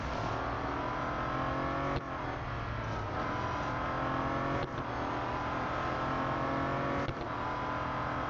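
A Bentley Continental GT Speed engine in Real Racing 3 drones loud and continuous while racing, with rising whines broken by brief dips at each gear change, about three across the stretch.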